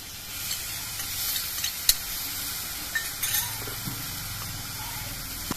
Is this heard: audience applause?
no